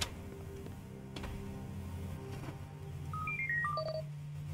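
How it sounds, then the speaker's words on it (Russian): In the video game Long Gone Days, a phone gives a short electronic ringtone of rising and falling beeps over a low ambient drone, ending in a sharp click, with no voices. "Телефон Зои? Алло."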